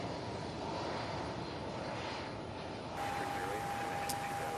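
An MD-11 airliner lands at Louisville's SDF airport as a steady, fairly distant engine roar and rushing noise that holds through the short stretch, with a faint tone joining partway.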